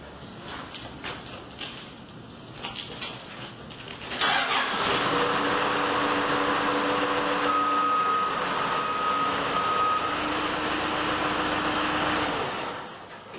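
A Skyjack ZB6042 telehandler engine turns over and catches around four seconds in, then runs at a steady idle, with an intermittent high reversing-alarm beep pulsing over the engine.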